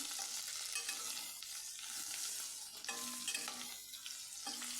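Spices and vegetables stir-frying in oil and ghee for a fragrant malai dal, with steady sizzling and repeated scraping stir strokes close by, continuous throughout with no talk.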